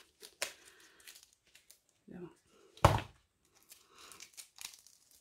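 Brief crackling rip of packing tape pulled from a cardboard parcel, with rustling and handling noises around it, close and fairly quiet.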